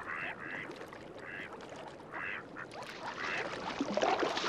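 Ducks in a marsh quack several times in short nasal bursts at moderate distance, set against a soft outdoor wash of wind and water with a few further calls toward the end.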